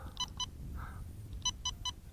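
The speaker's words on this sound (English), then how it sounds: "You heard those 3 beeps?" A quick pair of electronic beeps from a mini quadcopter's controller, a pause, then three short evenly spaced beeps as it switches to high rate, over faint background hiss.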